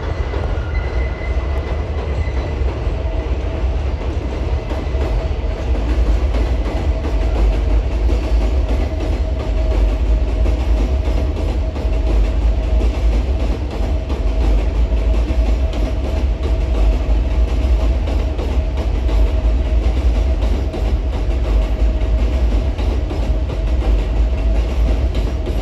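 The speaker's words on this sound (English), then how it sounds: "You just saw an Empire Service equipment come out of the yard" Empire Service passenger train equipment rolls out of a rail yard near Hunterspoint Avenue station in Long Island City, a loud, steady rumble with wheel clatter that holds unbroken throughout.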